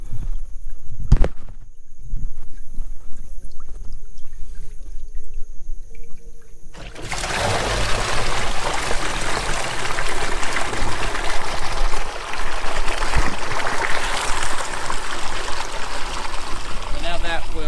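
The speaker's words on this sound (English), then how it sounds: "I'm going to try to pull one of these boards so it'll let the water go to the field below it." With a board pulled from a field ditch, irrigation water starts flowing in a loud, rushing, bubbly stream nearby after a quieter stretch with a few knocks, continuing steadily with brief background voice.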